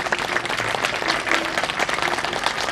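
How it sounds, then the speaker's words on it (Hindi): A crowd at a yoga gathering breaks into loud, sustained applause, thick overlapping hand claps throughout with no pause, close and full. "लक्ष्मण भाई को जोरदार ताली"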